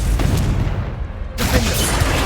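Bombarda and Confringo blasting spells in Hogwarts Legacy go off as a dense run of booming explosions and crackling bursts, loud and close, shifting to sharper, brighter blasts near the end.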